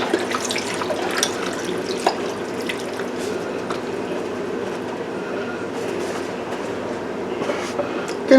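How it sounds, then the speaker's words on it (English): Four cups of broth pour steadily into a pot for a creamy butternut squash soup, making a continuous, fairly loud liquid rush with small splashes. It lasts the whole stretch without anyone speaking. "I'm going to add in our broth,"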